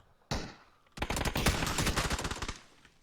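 Gunfire and grenade blasts in a PUBG esports match: a sharp burst near the start, then a dense run of rapid shots and explosions for about a second and a half, loud and without talk.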